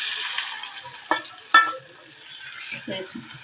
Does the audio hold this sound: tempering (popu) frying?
yes